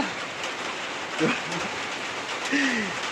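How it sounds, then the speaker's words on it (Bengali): Heavy rain pouring onto a road beside a railway station at night, a dense continuous hiss with brief faint tonal squeals and a voice or two barely audible in the background. "আলটিমেট বৃষ্টি পড়ছে রাস্তায় খুব, আমরা দাঁড়িয়ে আছি।"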